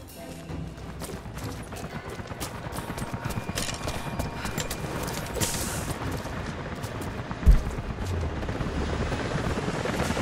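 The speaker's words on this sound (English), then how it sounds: "helicopters are headed your way" Helicopters approach in the video game Rise of the Tomb Raider, a continuous loud rotor thrum and chop that builds slightly over ten seconds, with one sharp thud near the end.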